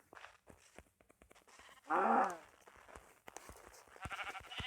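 A single loud sheep bleat in Minecraft in the middle, surrounded by quiet clicks, soft footsteps and faint game-like noises.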